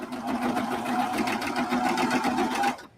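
Sewing machine stitching through about five layers of fleece, a close, steady rapid hum and clatter running continuously before stopping abruptly.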